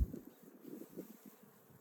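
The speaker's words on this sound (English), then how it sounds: "has been just swarming with bees" Bees buzz in a soft, steady hum around a flowering willow tree, with no voices, just the faint drone of many insects.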